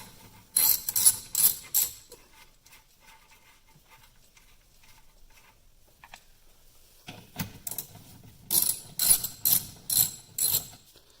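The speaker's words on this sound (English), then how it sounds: "I'm using a 15mm socket on these bolts right here." Bursts of rapid ratchet clicking from a ratchet with a 15mm socket loosening wiper arm nuts on a 2004 Dodge Durango, two clusters of close, crisp clicks separated by a quiet pause.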